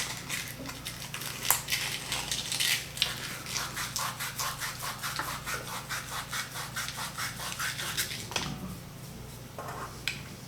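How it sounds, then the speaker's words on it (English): Sandpaper rubbing against a small plastic suspension part of a T-34/85 model tank, a steady run of close, dry scratchy strokes in quick repeated bursts, with no one talking. "I'm going to hit it with the sandpaper a little bit more until it does spin freely"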